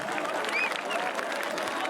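Audience applause at the Magh Utsav in Bardhaman, a steady wash of clapping from a large crowd with no clear break, fairly loud throughout.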